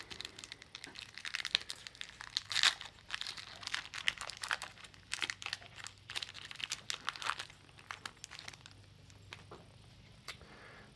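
Crinkling and tearing of a foil trading card booster pack wrapper for the Exodus set, close and moderately loud, in irregular bursts of rustle with a steady low hum underneath, no talking.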